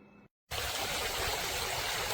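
A Pawfly 800 GPH submersible aquarium pump sends out a steady, loud rush of flowing water that starts abruptly after a brief moment of silence and continues without a break.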